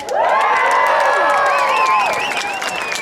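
A large outdoor crowd at a San Mateo protest over the killing of George Floyd in June 2020 cheers and shouts loudly, with whoops rising and falling together and some clapping.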